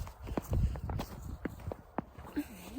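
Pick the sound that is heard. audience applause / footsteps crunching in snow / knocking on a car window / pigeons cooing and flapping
footsteps crunching in snow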